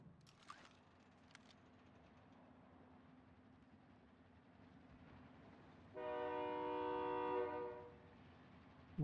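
A train arrives in the Warzone battle royale game, a low rumbling approach that swells into a loud, sustained horn blast with stacked harmonic tones for about two seconds, then fades.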